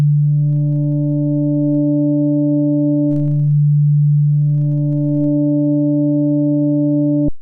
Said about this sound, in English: So on a sine wave